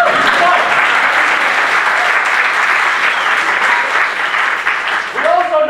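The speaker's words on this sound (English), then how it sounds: "That deserves a round of applause." An audience at a special community event breaks into loud, sustained clapping that carries on evenly throughout and thins slightly toward the end.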